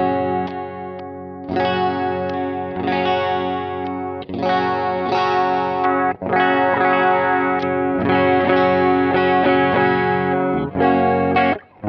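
Ibanez Premium RG870QMZ electric guitar played through effects with distortion and chorus, a run of strummed and picked phrases with repeated sharp attacks, loud and continuous with a few short pauses.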